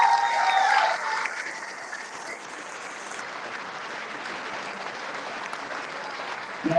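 An indoor crowd claps for a Tasmania Fire Service firefighter at a Melbourne stair climb presentation, with loud applause at first that settles into steady, softer clapping and swells briefly again at the end.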